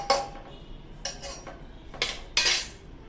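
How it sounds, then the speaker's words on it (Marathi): Metal lid set onto a pot of Khandeshi masala khichdi about to boil, giving four sharp clinks and rattles spaced roughly half a second apart, close and clear. "मग आपण झाकण लावून घेऊया"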